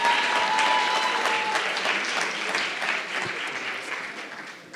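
An audience applauds business school students at a place marketing competition in Casablanca, a loud sustained clapping from a large crowd that gradually fades toward the end.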